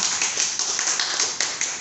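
Audience applause after a call to clap during a NAGAYA cryptocurrency coin presentation, a steady dense patter of hand claps with small bursts, fairly close and moderately loud, with no talking.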